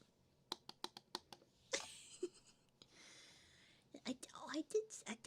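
A novelty button that says "nut" when pressed, switched off, clicks sharply several times in quick succession, close to the mic and intimate, with whispered breathy speech and more scattered clicks following.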